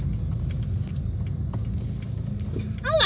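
A vehicle rumbles past on a city street with a low, steady engine drone and faint clicks and rattles, heard alone, fading slightly near the end.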